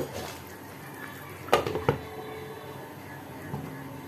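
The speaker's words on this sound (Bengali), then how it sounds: "এবার একটু সেদ্ধ হোক, আবার একটু ঢাকা দিয়ে দেব।" Potatoes simmer in a pot of potato curry, making a low, constant bubbling hiss, broken by a couple of quick clinks of metal on the pot and faint background murmur.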